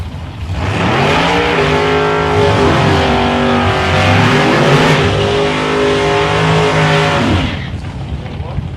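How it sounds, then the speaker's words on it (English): A Toyota Celica with a 572 cubic inch Ford engine races a 502 cubic inch GT500 Mustang in drag racing qualifying at South Coast Raceway: loud, close engines roar and rev for about seven seconds, then drop away. "Now he's running a 572 cubic inch Ford engine in this car."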